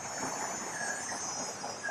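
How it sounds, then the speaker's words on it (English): Cicadas buzzing outdoors on a bright summer day, a continuous high-pitched insect drone holding steady throughout under a faint hiss of ambient noise. "And the cicadas."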